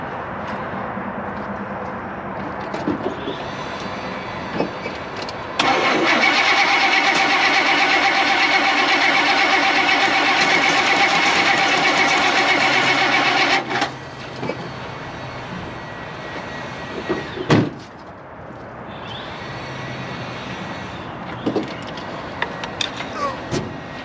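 A 1974 GMC Grand Sierra dually's 454 big block cranks loudly for several seconds without catching, the starter's steady whir stopping abruptly, followed by quieter clicks and background noise; speech is heard around it.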